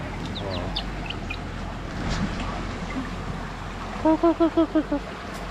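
Chickens cluck in a quick series of six short calls near the end, over a noisy outdoor background with faint bird chirps earlier.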